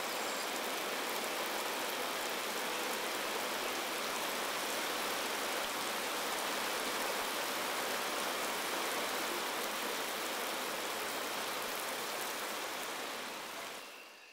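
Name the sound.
rain falling in Congo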